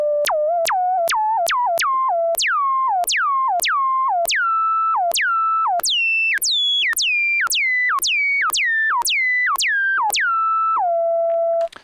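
Minimoog synthesizer notes played in a quick melodic run, each sharp attack dropping through a short decay into a steady sustained tone, loud and clean with nothing else behind, ending on a held note.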